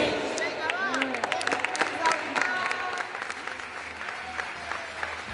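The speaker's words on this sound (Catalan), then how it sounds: "Aquests aplaudiments." An audience at a sports awards gala claps and cheers, with lively applause, scattered whoops and crowd chatter that gradually settle to a lower murmur.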